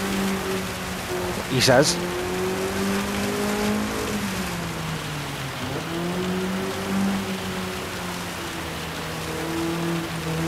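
Rain hisses steadily beneath racing car engines in Gran Turismo 7 at the Nurburgring, whining and shifting pitch, with a brief voice speaking in the middle.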